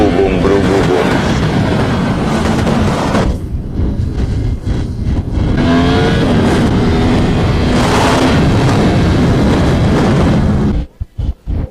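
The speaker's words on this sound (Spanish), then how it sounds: "está empezando a petardear porque la escucho que hace bru bu boom" A Yamaha R1M sport motorcycle with a one-off custom exhaust revs hard and loud, with rough, crackling backfire pops and bangs over several seconds before it briefly cuts out near the end.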